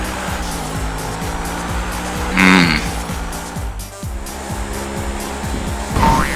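A tractor engine in GTA Online drones steadily at low pitch with shifting revs, joined by a couple of brief louder bursts over the continuous rumble.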